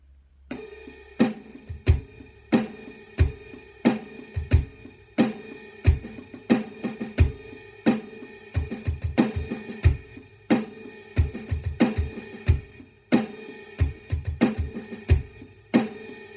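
Drum kit groove built from paradiddle sticking, accented snare hits over quieter ghosted strokes with kick drum, played steadily and up close with no talking.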